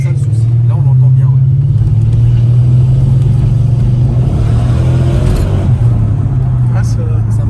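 A big Mercedes V8 engine running with a loud, steady deep rumble and a slight rise in revs, heard close and continuous with some background voices over it.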